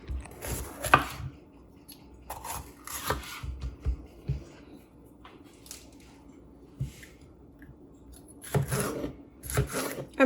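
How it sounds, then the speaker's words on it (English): A knife chops red, yellow and orange bell peppers into smaller pieces on a cutting board, giving sharp, close knocks in irregular bursts with quiet pauses between them and no talk. "I'm just cutting them up right now to get it a little smaller for when it goes into the food processor."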